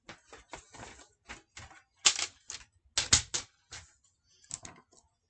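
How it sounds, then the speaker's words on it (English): Scissors fussy cutting paper pieces for a handmade card: a run of quick, crisp snips and rustles in uneven bursts, close up, with no talking. "I'm going to fussy cut the rest of this."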